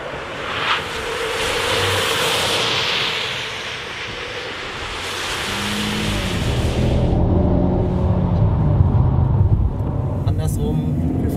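A car at around 90 km/h plows through a flooded aquaplaning pool on a driver training course, water spray and surf-like rushing dominating over engine noise, with a person talking over it.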